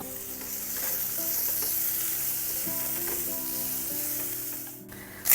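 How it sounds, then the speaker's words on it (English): Vegetables sauté in a hot pan for vegan fried rice, a steady close sizzle that runs almost unbroken, with light stirring and a brief scrape of the pan near the end. "Set the tofu aside and saute your veggies."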